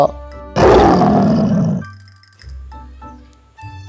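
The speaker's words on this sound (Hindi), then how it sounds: "ये शेर भी उसकी बात सुनकर बड़बड़ा उठा" An animated story's lion gives a loud, close roar lasting over a second, then trails into lower growling rumbles, with a short sharp growl burst at the end.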